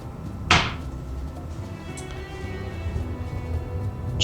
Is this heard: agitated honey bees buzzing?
no